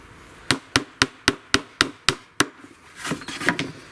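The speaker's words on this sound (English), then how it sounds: "Then just using your claw hammer, knock the heads down." A claw hammer strikes nail heads in pallet wood eight times in a steady, even rhythm, sharp and close, followed by softer scraping and rustling.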